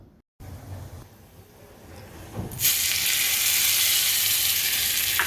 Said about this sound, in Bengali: এই তরকাটাকে আমি সেই চাটনির ওপরে ঢেলে দেবো